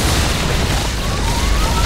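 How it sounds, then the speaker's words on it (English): A Yamato cannon blast from a StarCraft match with battlecruisers and siege tanks, a loud sustained booming roar that fills the whole stretch, thick and heavy with a rising tone running through it. "I hear the Yamato cannon firing up, so yeah, he's starting to fire off Yamato blasts"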